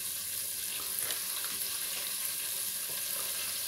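Breaded fish frying in hot oil after a batch of French fries and hush puppies, a steady broadband sizzle and crackle held close and even throughout, with no talking.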